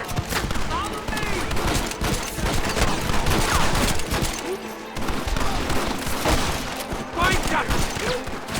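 Dense, sustained gunfire in a Red Dead Redemption shootout, rapid overlapping shots and bursts running nearly continuously at close range, with shouting voices mixed in throughout.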